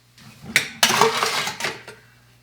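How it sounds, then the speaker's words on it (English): Ice cubes clatter into an Irish coffee glass in a few quick, close bursts of clinking and rattling, then settle. "A little bit more ice"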